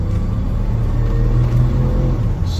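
A 1986 Dodge D150 pickup with a freshly rebuilt transmission pulls away in first gear, its engine a loud, steady low rumble heard from inside the cab, rising slightly in pitch as it accelerates.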